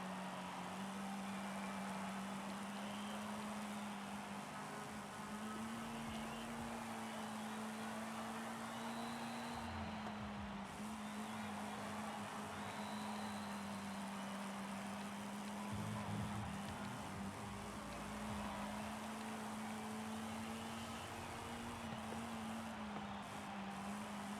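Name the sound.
car being driven around a lap in video game Forza Horizon 5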